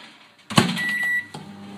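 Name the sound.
microwave oven running, melting chocolate and butter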